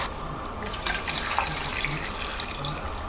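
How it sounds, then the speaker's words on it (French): Water pours into a pot over poached chicken thighs, a steady close splashing and trickling that runs for about three seconds. "Ici, on va rajouter de l'eau jusqu'à hauteur."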